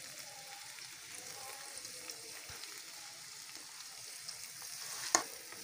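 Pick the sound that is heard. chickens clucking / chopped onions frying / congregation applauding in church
chopped onions frying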